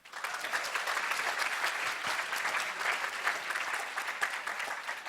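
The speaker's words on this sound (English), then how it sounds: "So how about a big round of applause for him?" Audience at a hackathon opening ceremony gives a sustained round of applause, a dense, even clatter of many hands that starts abruptly and holds steady at moderate volume, with no speech over it.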